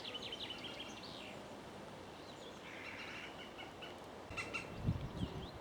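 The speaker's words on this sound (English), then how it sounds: "I think the alarm call is coming from a woodpecker" A green woodpecker's alarm call rings out from trees on a countryside walk, sharp repeated bird notes at moderate distance, joined near the end by a louder burst of calling, with no talking.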